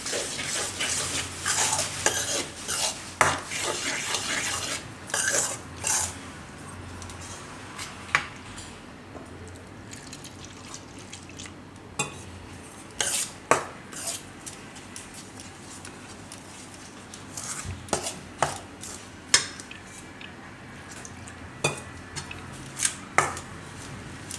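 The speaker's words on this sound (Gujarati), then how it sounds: "હવે આમાં આપણે થોડી થોડી છાશ નાખતા જાહું ને મિક્સ કરી લેવું" A rice flour and maida batter for pudla being mixed with buttermilk in a bowl, giving soft wet stirring with scattered sharp clicks and taps of a spoon against the side, close and fairly quiet.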